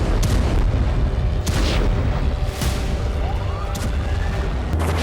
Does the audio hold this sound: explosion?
yes